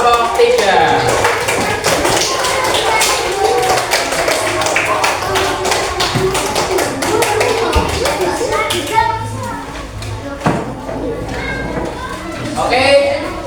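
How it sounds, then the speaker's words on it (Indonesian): Children in a classroom clap and applaud for a group that has just presented, a dense burst of many small hands patting at once, loud and close, with kids' chatter and voices mixed in throughout. "Tepuk tangan untuk kelompok 3."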